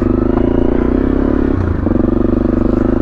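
Honda CRF250L dual sport motorcycle on dual sport tyres ridden offroad, a loud, close, steady engine drone with a brief dip in pitch midway, alongside clattering rattles.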